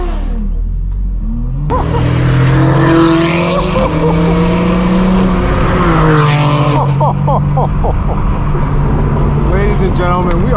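A straight-piped BMW M4 G82 and other cars at an illegal car meet: after a quiet start, a loud exhaust drone rises and holds with revving surges, tire squeal, and a rapid crackling burst near the end, voices talking underneath.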